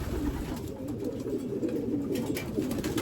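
Pigeons or doves coo softly in a low, rolling murmur, the calls overlapping steadily and close by, with a faint higher chirp above and no voices.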